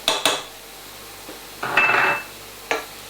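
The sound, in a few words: spices being added to pan for chicken korma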